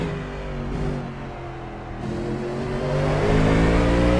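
The URD Coyote GT3 race car engine in Assetto Corsa drones close and steady, with its pitch sinking and then climbing again as it revs up under acceleration.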